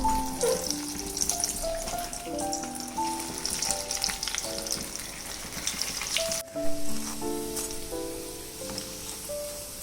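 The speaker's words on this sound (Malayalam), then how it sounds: "ഇനി എണ്ണ ചൂടായിട്ടുണ്ട്, നമുക്ക് എണ്ണയിലോട്ട് ഇട്ട് കൊടുക്കാം." Chicken vada crackling and sizzling in hot oil, a steady close fry with bubbling pops and occasional stirring noises, and no voices.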